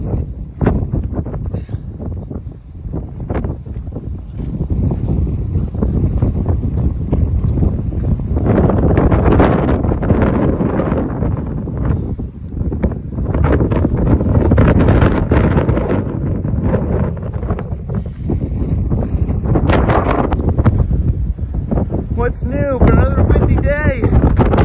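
Strong wind gusts buffet the microphone on an open mountain pony pasture in the Grayson Highlands along the Appalachian Trail, a loud continuous roar and rumble that swells and dips throughout, with a hiker speaking at times over it.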